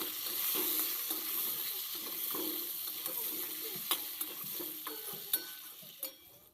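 Eggplant pieces dusted with turmeric fry in oil in a kadai, giving a steady close sizzle broken by occasional sharp clicks and scrapes of a spatula turning them.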